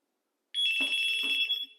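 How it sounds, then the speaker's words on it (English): An ECG-101 analogue wired trim-line telephone rings with a loud, steady electronic trill that starts abruptly and runs about a second and a half, with a slight double pulse and no talk. "The ringer is loud enough for you."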